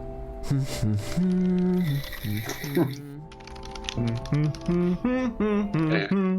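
Rapid computer keyboard typing sounds off at a quick pace beneath a continuous stretch of background music and voices, part of the Cthulhu adventure game Gibbous.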